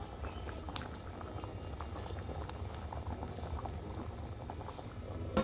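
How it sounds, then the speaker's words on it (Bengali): Chicken curry with potatoes simmering under a lid in a covered pot, made with ground spice paste and added water, giving a steady, continuous low bubbling that stays even and close throughout. "ঢাকা দিয়ে দিই, মাংসটা সিদ্ধ হতে থাক। মাংসটাও সিদ্ধ হবে, আলুটাও সিদ্ধ হবে।"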